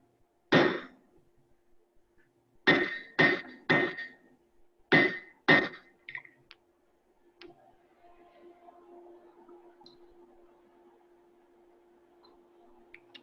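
Blacksmith hammering hot steel while forging Poz tongs, six sharp ringing hammer blows in an irregular rhythm close by, followed by quieter shop noise and a faint low hum.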